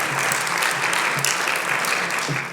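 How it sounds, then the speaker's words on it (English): An audience at the closing session of a conference on HIV and TB breaks into loud, sustained applause, a dense wash of clapping with no gaps. "nobody applauds them, and I think that this is the time to do so."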